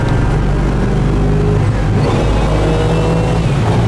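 A 1970 Pontiac GTO Judge engine drones steadily at about 3,000 RPM while cruising at highway speed, a loud, dense, continuous rumble heard from inside the car with no talk over it.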